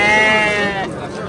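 Sheep bleat loudly and close at a livestock market in Shahrikhon, Andijan, one long wavering call that fades into crowd murmur.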